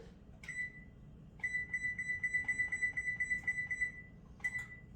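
Electronic oven control panel beeping as it is set to preheat to 400 degrees: one short beep, then a long run of steady rapid tones, and another short beep at the end, all clear and close over a quiet kitchen.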